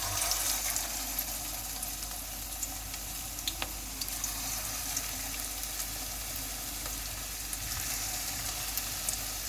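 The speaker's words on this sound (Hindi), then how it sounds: "ये मैंने ऑयल गर्म होने के लिए रखा हुआ था। अब हम कबाब को फ्राई कर लेंगे।" Minced-meat kebabs frying in hot oil, a steady dense crackling sizzle with scattered pops, close and continuous throughout, no talking.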